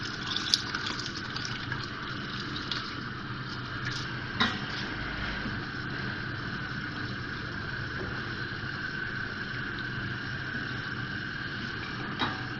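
Rice tipped into boiling chicken stock in a cooking pot for Arabian chicken mandi, giving a steady bubbling, watery rush with a few soft splashy knocks over a constant simmer.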